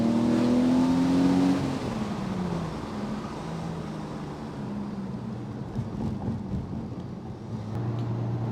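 BMW E46 driving on the road, its engine note rising as the car accelerates, then settling into a loud, steady cabin drone as it cruises on.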